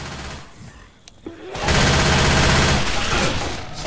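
Gunfire in the multiplayer video game Left 4 Dead 2, a loud sustained burst of rapid automatic shots after a quieter lead-in with a few single clicks, no talk.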